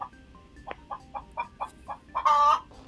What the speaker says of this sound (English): Yeah, that definitely sounds like a chicken